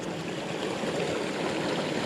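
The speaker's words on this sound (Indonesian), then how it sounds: "menemukan aliran sungai ini" A forest stream fed by mountain water flows beside a trail, a steady, full, close rushing babble with no pauses.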